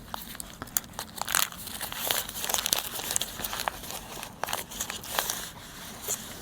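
Oil paper packaging crinkles as an injector control valve assembly is unwrapped, giving a steady run of close, dry rustles and sharp crackles over several seconds with no talk.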